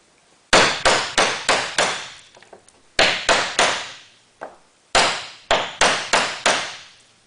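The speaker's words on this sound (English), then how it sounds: "The replacement slate is now in place. A single nail holds it." A hammer drives a single nail to secure a replacement roof slate: three sharp, ringing bursts of five or so quick blows each, loud and close, separated by short pauses with a lighter tap between.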